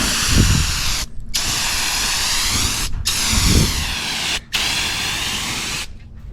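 Heated turbo spray paint can spraying enamel, close loud hissing bursts in long passes broken by three or four brief gaps where the nozzle is released.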